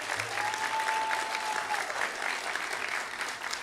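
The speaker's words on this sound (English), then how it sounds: "Let's give yourselves a round of applause." Steady applause from a convocation audience at a college honors ceremony, dense and even for several seconds, with a faint whistle-like tone briefly riding above the clapping.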